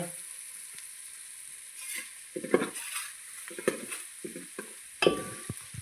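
Asafoetida dropped into hot oil for an outdoor farm-style eggplant oleo dish, giving a low steady sizzle with clinks of a spoon against the pot and several short scraping stirs, close by, with no talk.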